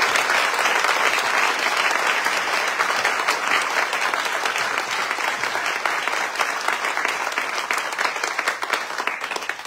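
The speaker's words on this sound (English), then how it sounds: "I'd like everybody to please, big round of applause for Gloria." Sustained applause from an audience at an onstage conversation event, dense steady clapping for nearly ten seconds at an even level, tapering slightly at the end, with no talk over it.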